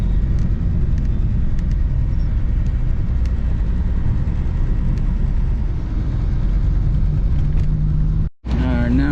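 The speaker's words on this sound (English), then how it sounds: "traffic seems to be flowing well through Manila here" Traffic flows along a road in Manila, heard as a continuous loud engine rumble and tyre roar from inside a moving vehicle, with a sudden cut near the end.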